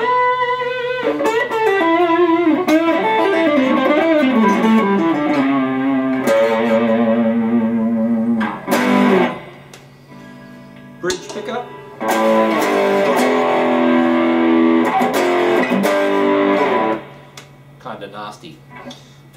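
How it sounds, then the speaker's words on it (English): An Epiphone ES335 Dot electric guitar plays through a Tube Screamer distortion pedal, sustained gritty notes and chords ringing out loudly, with a brief pause midway and a quieter tail. "These things sound pretty cool through a distortion pedal."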